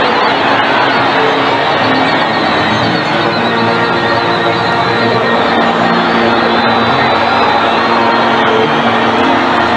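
Dense roar of a football crowd at a Kaizer Chiefs versus Orlando Pirates match in the 1990s, Chiefs supporters celebrating a goal with loud, sustained, far-spread cheering and noise that fills the whole stretch without a break.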